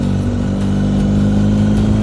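A motorcycle engine runs loud and close on a mountain road in the Pindus, its steady droning rumble holding without letup throughout.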